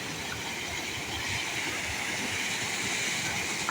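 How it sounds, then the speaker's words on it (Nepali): Water rushing along a small rural irrigation canal, a steady broadband roar, close and continuous throughout with no speech. "झर्ना त होइन नि कुलो रहेछ"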